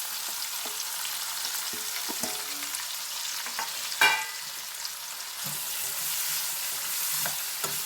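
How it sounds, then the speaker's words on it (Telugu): Onions, green chillies and curry leaves sizzle in hot oil with a steady frying hiss, broken by occasional stirring scrapes and one sharp clatter of the utensil in the pan. "మనం కట్ చేసి పెట్టుకున్న ఆనియన్స్ ఉన్నాయి కదా అవి వేసేసుకోవాలి పచ్చిమిర్చి ఆనియన్స్ కరివేపాకు మూడు ఒకసారి వేసుకుంటే సరిపోతుంది"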